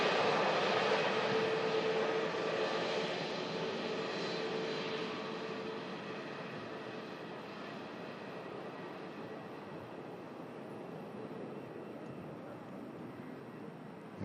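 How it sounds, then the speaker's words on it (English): A Ryanair airliner taxiing across to the south runway at Manchester Airport, a steady, broad jet engine roar that is loudest at the start and slowly fades, with faint voices in the background. "There's Ryanair crossing over to the south runway, heading out to Malaga"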